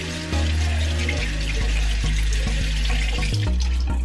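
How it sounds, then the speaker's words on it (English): Cold water runs steadily from a tap onto a beauty blender sponge, a continuous close splashing stream with a few brief shifts in the flow. "we're gonna wet it with some cold water"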